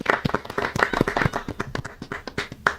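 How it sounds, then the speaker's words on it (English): A small group claps in a quick, uneven burst, sharp hand claps close to the microphone for a few seconds during a live tabletop role-playing session. "Big round of applause for Ian."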